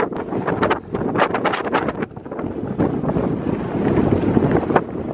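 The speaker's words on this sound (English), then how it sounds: "It's really windy." Strong wind buffets the microphone in loud, rumbling gusts while longboarding on a dirt path, roaring continuously with no pauses.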